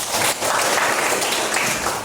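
Applause breaks out during an Indonesian speech-themed teaching presentation, a dense, steady patter of hands clapping for about two seconds with no talk over it.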